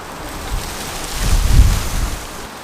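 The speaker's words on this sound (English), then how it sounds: "Very swirly wind." Swirling wind gusts across an open golf course, a low rushing roar that swells to a buffeting peak midway and then eases, close to the microphone with no voices.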